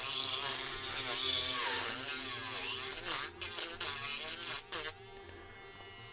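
A high-speed rotary tool shapes a wooden vent grate made to match an African wood closet, giving a loud, steady whining buzz that wavers in pitch and cuts out briefly near the end.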